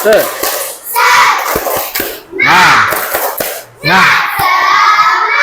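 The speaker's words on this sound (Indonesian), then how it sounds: "Ayo, tepuk semangat" Schoolchildren doing a tepuk semangat spirit clap in class, rhythmic group claps alternating with bursts of shouted chanting from the kids, loud and close.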